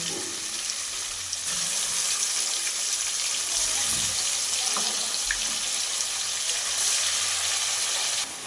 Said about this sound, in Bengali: এবার চিকেনগুলো এর মধ্যে তেলের মধ্যে দিয়ে দেব